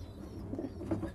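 Pigeons in a pigeon loft with their squabs, giving soft, low cooing calls that swell a few times near the end over a faint background hum.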